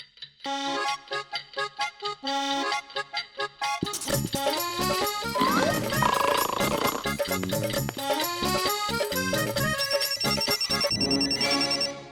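A cartoon telephone rings in a rapid electronic trill, pulsing in bursts, then gives way to a loud, busy musical passage with layered tones that runs to the end.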